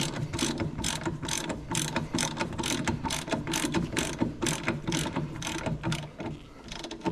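Ratchet tightening a Brembo big brake kit (6-piston and 4-piston calipers, 14-inch rotors) on a Z31 300ZX: a long run of rapid, evenly spaced clicking strokes, close and steady, with no talking.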